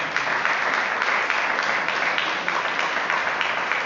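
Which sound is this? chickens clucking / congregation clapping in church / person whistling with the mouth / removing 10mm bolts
congregation clapping in church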